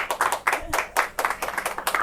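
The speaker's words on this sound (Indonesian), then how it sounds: "Tepuk tangan dong semuanya" An audience claps together at an Indonesian women's fashion and personality talk event, a steady patter of many hands close by, lasting a couple of seconds.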